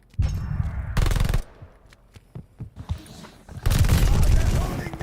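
Call of Duty gunfight with rapid automatic gunfire in two long bursts separated by scattered single shots and footsteps, loud and close, with a voice talking lightly in between.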